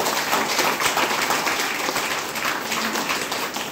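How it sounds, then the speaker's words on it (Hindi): An audience bursts into loud, sustained applause for a woman being honoured at a gathering, a dense continuous wash of many hands clapping close by with no voices over it. "तो एक बार इनके लिए जोरदार ताली"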